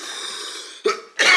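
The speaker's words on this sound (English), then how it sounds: "I can't keep coughing like this" A man coughs twice in close succession, each a short harsh burst, the second louder and more drawn out, following a few moments of steady low background noise.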